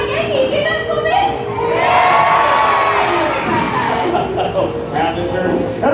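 Spectators at the Hollywood Stunt Driver show at Movie World shout and cheer, with children's voices prominent, the noise rising to a loud peak midway and then easing into scattered calls.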